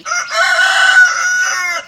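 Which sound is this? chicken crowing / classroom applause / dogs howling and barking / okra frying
chicken crowing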